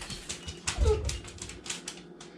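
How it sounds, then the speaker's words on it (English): A dog misbehaving near a washing machine in a home kitchen: a short, close whimper and low snuffling scuffles among scattered clicks and taps, fairly quiet, with no talking. "My dog's being bad."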